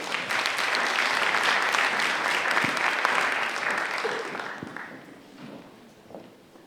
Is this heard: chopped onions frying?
no